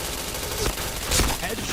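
Dense gunfire from the online shooter Point Blank rattles steadily and loudly through the whole moment, with a couple of sharper shot peaks standing out.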